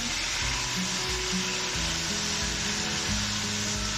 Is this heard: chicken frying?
yes